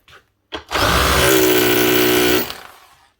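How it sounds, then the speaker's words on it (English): Hikoki (Hitachi) power drill running in hammer mode, a loud steady rattling drone lasting about two seconds after a brief start-up burst, then winding down, with no talk. "Drilling and hammering."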